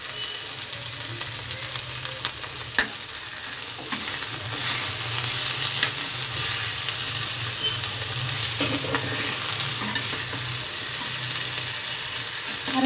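Ivy gourd fry with chopped coriander and ginger paste sizzles steadily in a pan, close and continuous, with scattered scrapes and taps of a spoon stirring.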